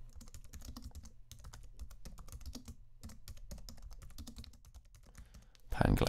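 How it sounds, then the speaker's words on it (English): Steady typing on a computer keyboard, a quick run of close, crisp key clicks with a short pause midway, ending in a louder burst of handling noise. "I'll type in the name of my song."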